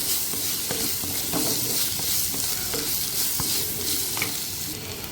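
Cubed potatoes and onions sauté in hot oil in a pan for a chicken gravy, with a continuous close sizzle and occasional scraping stirs. No one speaks.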